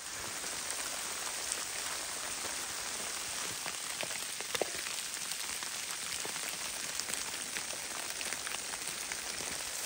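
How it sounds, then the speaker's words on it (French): Sleet of small white ice pellets pelts a tent hammock in a steady, dense patter, a constant close hiss of tiny impacts with occasional sharper ticks and no voices. "Je me suis fait prendre par une espèce de bordée infernale de grisilles."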